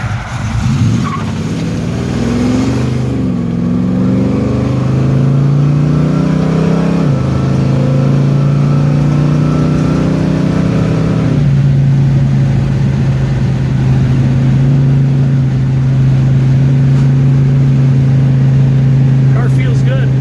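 A 1968 Buick GS 400 muscle car with 600 horsepower accelerates hard on a Michigan road, loud engine note climbing through gear changes with some tire noise, heard from inside the car.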